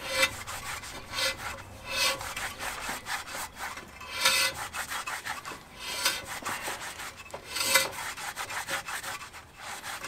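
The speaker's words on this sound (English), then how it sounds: "I spray some on a rag and just rub that side and the other side of the rotor" A rag rubbing back and forth across both faces of a zinc-coated PowerStop brake rotor during a Volkswagen MK6 JSW brake job, giving a steady scrubbing swish with louder strokes now and then, close up and with no talking.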